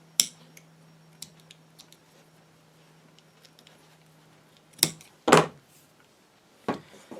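Scissors trim the yarn ends of a knitted towel tamer in a series of sharp snips and clicks, with several louder close cuts near the end over a quiet background hum.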